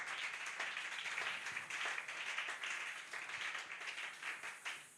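A church congregation at a Thursday worship service claps and applauds, a dense sustained burst of many hands that swells and then tapers slightly toward the end.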